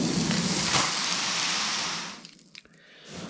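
Coal sliding down the feed pipe of a Harman Magnum stoker coal stove, a dense granular rattling rush that holds for about two seconds, then thins to a few scattered clicks and trickles.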